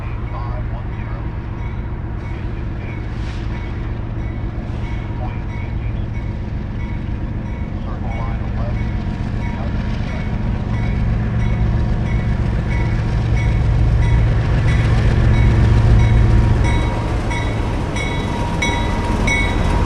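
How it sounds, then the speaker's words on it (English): CSX freight train Q340 rolls into Lima Yard from the south on the Toledo Sub after an air hose repair, with a loud, steady rumble of wheels and engine that swells in the middle and holds to the end. "Q340, the train we saw earlier that went into emergency, has repaired its air hose problem and enters Lima Yard from the south"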